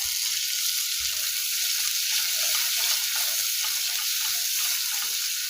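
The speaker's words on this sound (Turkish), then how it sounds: "Soğanımla birlikte etimi güzelce kavuruyorum." Diced beef cubes fry with onions in a pan, a continuous close, even sizzle lasting throughout, with faint occasional stirring knocks and no voices.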